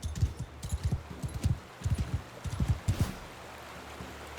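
Horse hooves pound in a quick, uneven clip-clop rhythm in a video game, fairly close and moderately loud, with soft flowing water in the background.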